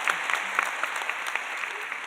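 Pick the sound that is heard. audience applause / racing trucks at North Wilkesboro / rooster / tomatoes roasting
audience applause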